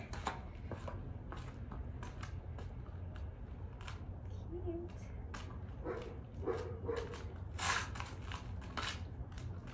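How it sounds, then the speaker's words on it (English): A neighbor's dog barks in short, repeated bursts at a distance, fairly faint, under quiet room noise and clicking sounds, with a person talking nearby. "My neighbor's dog always barks so much"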